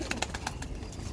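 Teddy pigeons, a fancy feathered breed, are heard in a loft with a few quick, clustered bursts of flutter or call early on, then a soft background hiss.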